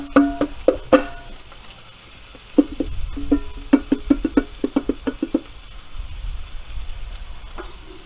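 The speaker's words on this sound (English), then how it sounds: "So throw the broccoli on there like that." Broccoli thrown into a hot pan sizzles softly while being stirred, with a string of sharp clacks and scrapes of a utensil against the pan over a low, steady frying hiss.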